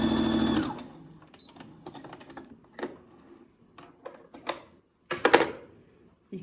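A sewing machine runs in a steady whirring burst, then stitches a seam on fabric in short, uneven spurts with quiet gaps between them, close and fairly loud, with no talking.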